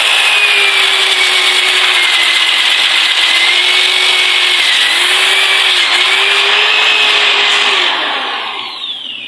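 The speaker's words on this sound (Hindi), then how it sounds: "आपने ड्रिल मशीन को कुछ मजबूती से हाथ से पकड़ लेना है" A drill machine fitted with a sanding attachment grinds a wooden double bed with a loud, steady whirring rasp whose pitch wavers slightly. It runs continuously, then winds down near the end.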